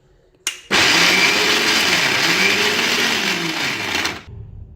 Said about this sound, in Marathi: आता आपण हे मिक्सरला वाटून घेणार आहोत.